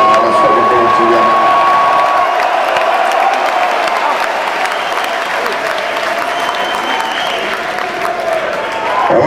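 A large arena crowd at a 2001 metal concert at Towson Center claps, cheers and whoops loudly and continuously, with a voice over the sustained roar.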